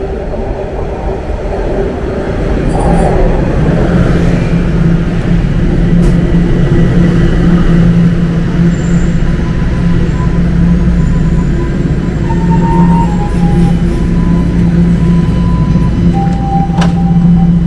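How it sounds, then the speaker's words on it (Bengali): A Toronto subway train pulls into the station with a loud, sustained low rumble and rising wheel roar, joined by high metallic squeals and brake whines near the end, heard alone without talk. "আমাদের ট্রেন চলে আসছে।"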